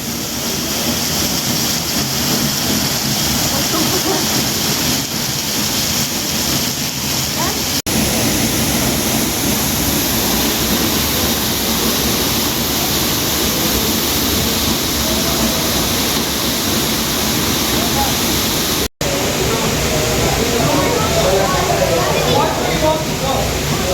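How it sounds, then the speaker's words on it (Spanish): Cascada Misoljá waterfall in Chiapas roars in a steady, broadband rush of falling water, loud and continuous throughout with no pauses. "También vas a poder caminar bajo la cascada hasta llegar a una cueva, que en su interior tiene otra cascada."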